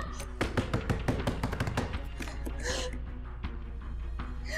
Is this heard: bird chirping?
no